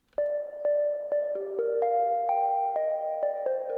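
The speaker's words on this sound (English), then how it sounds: "this pluck that I found in Serum that's playing the main melody" A bright Serum synth pluck plays a simple melody, each note struck cleanly with a short decay, steady rhythm, no voices.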